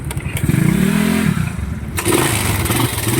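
A motorcycle engine with a lingering noise at low idle revs up twice in short bursts, rising and falling sharply, loud and close, with a mechanical clatter underneath.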